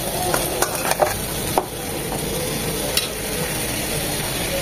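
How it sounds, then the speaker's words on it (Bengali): Tomatoes cook with turmeric, salt and spices in a pan for a Bengali magur fish curry, giving a constant dense sizzle broken by a few sharp spatula scrapes and taps, close and loud, with no voices. "মশলার সাথে টমেটোগুলো 3 থেকে 4 মিনিট কষিয়ে নেব যেন টমেটোগুলো খুব তাড়াতাড়ি নরম হয়ে যায়"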